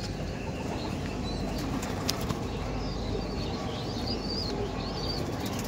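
A Kaldom pigeon struggles while it is held and flaps its wings in quick bursts. The flapping sits under steady background noise with faint chirps from other birds in the loft.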